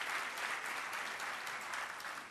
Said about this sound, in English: Okay, give yourselves a round of applause.